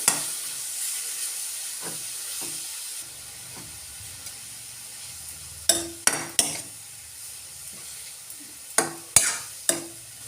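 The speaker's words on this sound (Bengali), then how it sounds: "গাজরটা দিয়ে এখানে নাড়তে থাকবো একটু দশ পনেরো মিনিট ধরে" Carrots for carrot kheer stirred and frying in a pan: a steady soft sizzle with a fainter hiss over its second half, broken by sharp scraping clicks of the spoon against the pan, a few early and then several in quick clusters.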